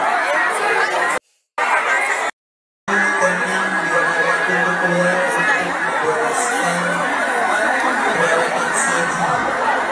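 A dense crowd jammed into the Pendopo town square for free food, with steady, busy chatter and scattered laughter from many voices and two brief dropouts into silence.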